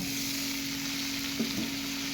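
Onions, green chillies and tomatoes fry in oil in a wok with a steady, close sizzle, broken by a quick clink of stirring near the end.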